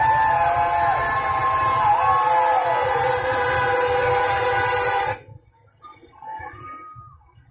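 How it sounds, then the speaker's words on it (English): Car horns honking on a Chicago street as cars drive by, a loud, continuous blare of overlapping horn tones for about five seconds before it cuts to quieter street noise. "those, of course, the honks of cars just driving by constantly"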